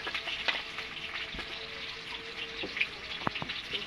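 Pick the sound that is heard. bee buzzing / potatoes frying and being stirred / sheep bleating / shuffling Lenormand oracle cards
potatoes frying and being stirred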